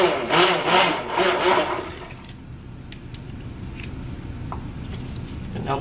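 A stick blender mixing clay-coloured soap runs in a few short pulsing bursts nearby, then a steady low hum continues with faint clinks.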